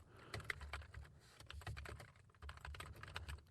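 Fingers typing on a computer keyboard, quiet close clicks in quick irregular bursts with brief pauses between runs of keystrokes, no voices.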